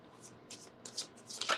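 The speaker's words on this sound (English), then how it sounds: "let me shuffle it one more time because something ain't right here" Tarot cards shuffled by hand in quick, crisp riffling bursts, several short flurries close to the mic with no talk over them.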